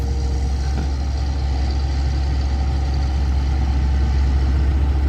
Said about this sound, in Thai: เร่งเครื่องเบาๆครับ